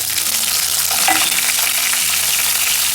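Green chillies, curry leaves, ginger pieces and whole spices fry in hot oil with a steady, loud sizzle and crackle that carries on without a break and with no voices.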